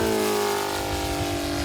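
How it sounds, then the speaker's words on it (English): Radial engine of a model warbird airplane making a low pass at a fun fly, a loud steady droning buzz with strong harmonics, close and alone. "making a nice low warbird pass, in this case to let people hear my radial engine"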